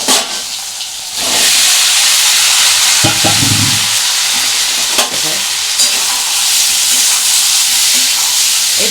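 Boiled potatoes drop into hot oil and fry with a loud, dense sizzle that swells after a quiet start, marked by a few spatula scrapes and knocks as they are stirred.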